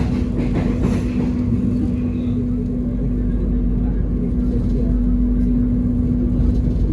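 A long passenger train rolls through Gang Sentiong station in Jakarta, a loud, continuous rumble with a steady low hum heard from close by inside the carriage.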